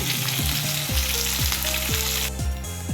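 Pieces of rohu fish frying in hot oil give a steady, loud sizzle that runs the whole time, with no voices over it.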